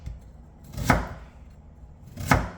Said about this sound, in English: So I'm gonna chop the onions